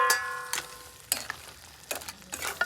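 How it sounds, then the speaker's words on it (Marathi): Crabs drop into boiling masala in a pot over a wood-fired stove, bringing soft bursts of sizzling and stirring scrapes in short, uneven clusters, faint and close. "उकळी येऊन दिली त्याच्यामध्ये ह्या खेकडी ॲड करायच्या असं"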